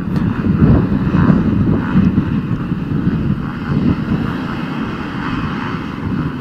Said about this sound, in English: the riders have been ordered to start their engines